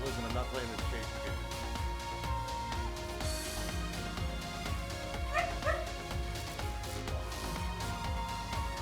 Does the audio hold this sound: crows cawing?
no